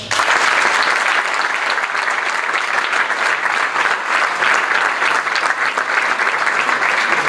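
A large crowd claps steadily and loudly, sustained applause with no letup, close and full.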